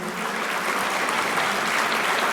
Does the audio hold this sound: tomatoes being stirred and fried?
no